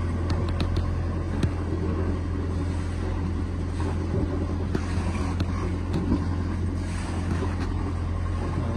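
A sailboat's engine turns over and settles into a steady low rumbling idle, continuous and close, with a few small clicks and knocks on top.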